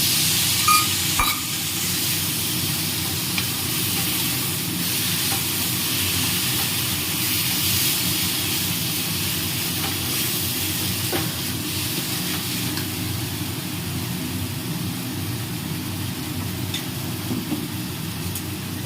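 Chickpea greens (chola shak) frying in a pan and being stirred, making a steady, continuous sizzle with faint scraping throughout, close by and without speech.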